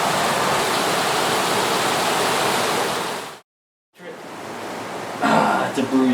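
Heavy pouring rain in El Salvador roars as a loud, even wash of noise, breaks off briefly, then resumes while a nearby voice speaks and someone coughs.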